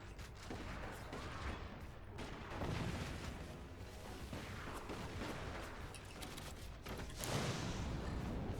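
Several sniper rifles firing in the artillery strategy game Forts, a dense, continuous run of overlapping shots and mechanical clatter that stays fairly faint throughout, with no talk.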